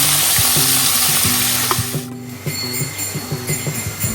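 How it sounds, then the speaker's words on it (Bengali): About four finely chopped onions hitting hot oil in a pan, a loud roaring sizzle that drops sharply halfway, then settles into a lighter fry punctuated by rhythmic metallic stirring clicks. "এবার এর মধ্যে দেবো কুচি কুচি করে কাটা পেঁয়াজ"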